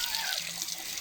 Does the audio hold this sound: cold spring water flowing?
yes